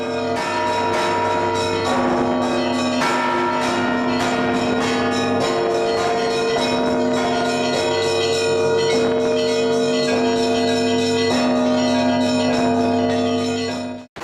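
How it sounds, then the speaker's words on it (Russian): Church bells ringing in the bell tower of the Trinity-Sergius Lavra, a dense, sustained peal of overlapping bells with repeated strikes layered over long ringing tones, loud and close, no talking. "Посередине колокол, называется он «Лебедь»."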